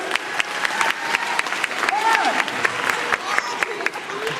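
A school audience claps during a hypnotist's show at Lincoln High School, loud and busy throughout, with some voices and crowd murmur mixed into the applause.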